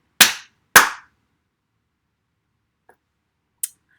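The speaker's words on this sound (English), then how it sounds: "Rocky clapped his hands again" Two sharp, close hand claps in quick succession, then quiet with a faint tap and one smaller clap-like snap, in a silent room.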